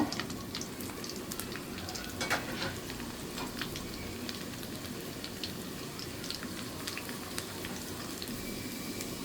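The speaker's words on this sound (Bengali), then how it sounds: "রসুন কুচি আদা কুচি দিয়ে আমি একটু লাল করে ভেজে নিব" Chopped garlic and ginger fry in a pan with a steady, close sizzle and scattered crackling pops, continuous throughout with no voices.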